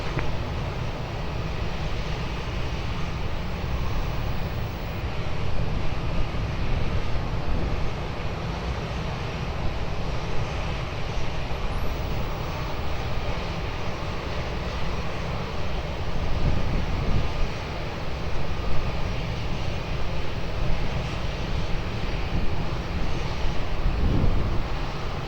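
A fixed-wing airliner approaching to land on runway 20 at Lisbon Airport, a steady broad engine roar holding at a constant level throughout, with no voices.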